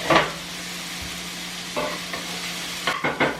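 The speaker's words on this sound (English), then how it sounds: "No, high heat. High heat? Yeah. Just gotta stir it." Food fries over high heat in a pan while being stirred, a continuous sizzle broken by several scraping stirs and clatters, louder bursts near the start and end.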